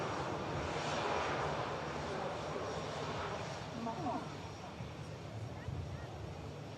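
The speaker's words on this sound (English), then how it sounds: "What a touchdown from the Dreamliner." A Boeing 787-8 Dreamliner touches down at Manchester Airport, a broad rushing engine roar that swells and slowly fades, with a voice talking over it.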